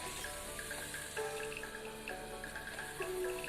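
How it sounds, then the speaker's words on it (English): Water pours into a pan of mushroom masala, a steady close trickle and splash with faint dripping. "Afterwards we'll add little water."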